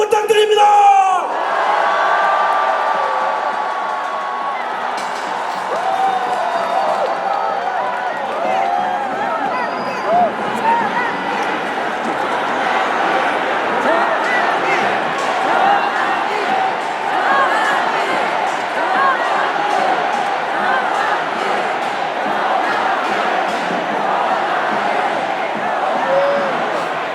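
A large crowd roars and cheers loudly and steadily to welcome an arriving speaker at a rally, a dense, sustained wall of shouts and whoops that carries on without a break.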